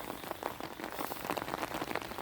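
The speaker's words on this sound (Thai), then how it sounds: "โอ้โหฝนตกเลยนะครับ" Heavy rain pours steadily over a rice field at night, a dense, continuous hiss of drops drumming on wet ground and surfaces, close and loud with no voices.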